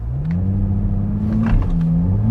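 A 2021 Toyota Supra 3.0 engine hums steadily up close during a launch-control start, its low drone rising slightly in pitch as it builds revs, with faint mechanical clicks.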